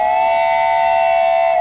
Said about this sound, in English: This is the finished train whistle with a 2-color pad print.